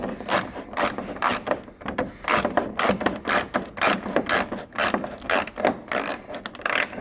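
Ratchet wrench backing out long bolts on the rear wing of a 1991 Firebird Trans Am, a steady run of rhythmic clicking strokes, close and fairly loud, continuing throughout.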